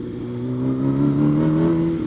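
A sport motorcycle rides along a city street with its engine holding a steady, loud drone that rises slightly in pitch midway and continues throughout, no voices.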